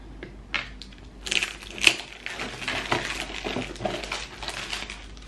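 Crinkling and tearing of packaging around a tiny cheese fondue being opened, a close run of crisp crackles and plastic snaps with a few sharper peaks, steady through the stretch with no talk.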